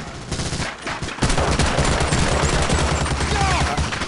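Covering gunfire rings out in the video game Medal of Honor: Allied Assault during the Operation Overlord mission, with loud, dense rifle and machine-gun bursts that build into sustained rapid fire.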